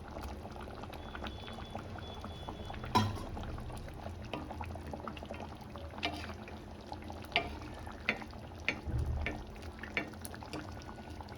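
Egg curry masala with fried eggs frying and bubbling in a pan, a soft continuous sizzle and simmer with scattered pops and clinks of stirring, close but quiet.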